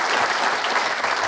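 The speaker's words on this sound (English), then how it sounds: "Please, another round of applause for them." Brief burst of audience applause at an employment and entrepreneurship seminar, dense steady clapping from a crowd filling the room with no voices.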